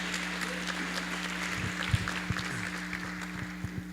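A church audience claps after a sermon, a moderate wash of applause with a few sharper individual claps over a steady low electrical hum.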